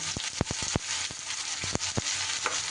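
Chopped onions drop into hot oil seasoned with a dried red chilli, crackling in a steady sizzle broken by sharp pops and stirring clatters, close and moderately loud with no talk.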